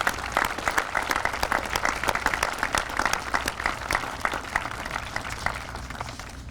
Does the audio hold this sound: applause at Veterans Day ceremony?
yes